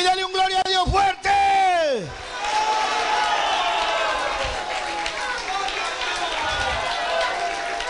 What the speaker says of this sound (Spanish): ¡Aplaude a mi Cristo y dale un gloria a Dios fuerte!